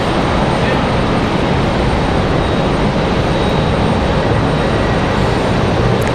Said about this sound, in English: another Breeze Airways Moxie 745, this one coming from Albany